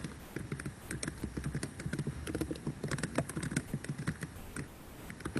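Rapid typing on a computer keyboard during a Zoom call, a busy run of quick, uneven key clicks close to the microphone, continuing throughout with no talking.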